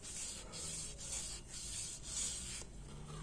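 A 4G63T crankshaft journal sanded by hand with 500 grit sandpaper while it is turned, producing a steady, close rasping rub that pulses in repeated strokes, with no speech.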